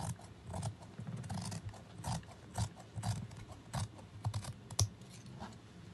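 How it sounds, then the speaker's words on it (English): Scissors snipping through dress fabric at the neckline, a steady run of close, crisp cuts and clicks with short pauses in between, heard alone without talk. "I'm going to cut the neck open now"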